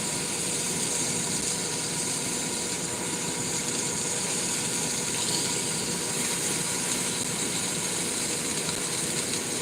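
Meat sizzling on a grill, its side split and tips bursting, gives a steady broadband hiss and crackle layered with the continuous hum of an APU air conditioner.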